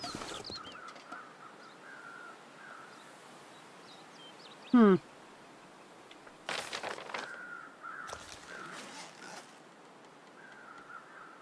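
Crows caw in the snowy wilderness of the video game The Long Dark, faint and distant calls scattered over quiet wind, with someone talking at times.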